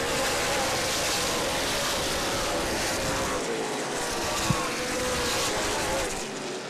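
Race cars restarting on the high-banked oval at Angola Motorsport Speedway, a dense roar of engines filling the whole stretch, loud and sustained, with a brief thump midway.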